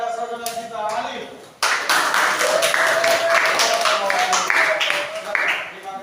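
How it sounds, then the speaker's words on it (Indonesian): Loud, dense audience applause bursts in after a brief stretch of a speaking voice and continues steadily to the end, a sustained wash of many hands clapping at a religious lecture. "Beri tepuk tangan yang meriah kepada saudara kita Alif"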